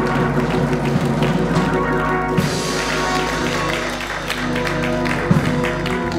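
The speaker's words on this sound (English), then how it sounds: "clap your hands and give God some praise." A church congregation claps hands during a sermon's call to praise, a dense, continuous wash of crowd clapping that stays steady and fairly loud throughout.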